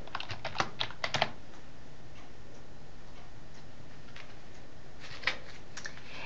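A computer keyboard is typed on in a few short clusters of crisp clicks, then a pause and another brief burst, close and quiet over faint background hiss.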